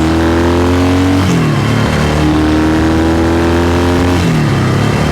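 A vintage Yamaha XS motorcycle engine idles loudly and steadily up close, with a couple of brief blips of revving that rise and settle back to idle.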